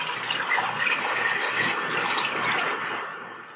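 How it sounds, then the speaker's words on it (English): Water pours steadily into a cooking pot of chicken for chicken and dumplings, a close, rushing splash that holds even before tapering off slightly at the end. "you want just enough water to cover the chicken."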